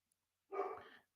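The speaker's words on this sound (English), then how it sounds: "Not sure what my dog is barking, but I hope he shuts up" A single short dog bark, close and fairly loud, standing alone after a brief silence with no talk over it.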